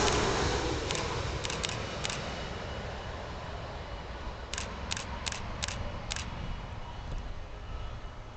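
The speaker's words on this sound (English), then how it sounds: "We love the sound of the shutter on the cameras." Rapid bursts of camera shutter clicks from a planespotter at Gold Coast Airport come in two clusters over steady wind and ambient noise.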